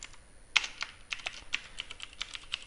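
Code typed on a computer keyboard, close and clear, with a steady run of crisp key clicks at an even pace against faint background hiss.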